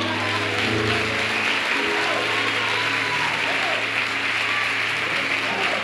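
A church congregation claps throughout at a steady level during a sermon, with a low sustained musical tone and voices mixed in beneath the clapping.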